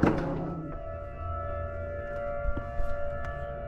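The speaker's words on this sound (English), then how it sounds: "They test tornado sirens on Saturday around here" Tornado warning siren being tested outdoors, a steady sustained wail holding its pitch throughout, moderately loud with faint background knocks and no talking.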